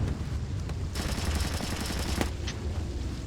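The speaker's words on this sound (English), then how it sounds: "I'm hearing gunfire down there, Fisher." Rapid gunfire in the stealth game Splinter Cell: Chaos Theory, a dense burst of many quick shots for about a second and a half against a low rumbling background, fairly close, with no talking.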